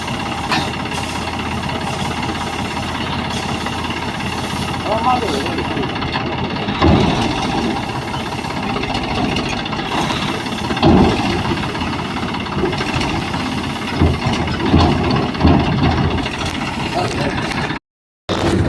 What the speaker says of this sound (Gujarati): ટ્રેક્ટર જો બસ જાય છે